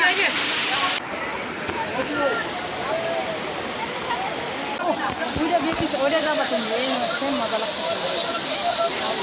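The Jaflong waterfall, running with somewhat low flow, gives a continuous broad rushing wash heard close by, with voices talking over it.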